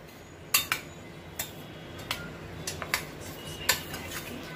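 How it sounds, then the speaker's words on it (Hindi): Chopped green chilli and coriander being mixed in a bowl, with a spoon clinking against the bowl in scattered sharp taps spaced irregularly, close and fairly quiet, over a soft room hum. "अब हम सबको अच्छे से मिक्स करेंगे"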